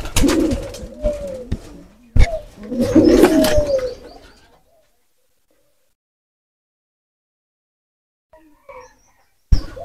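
Pigeons coo in two close, loud bursts of throaty warbling at a backyard loft, followed by a long stretch of quiet with faint distant calls and a brief final burst.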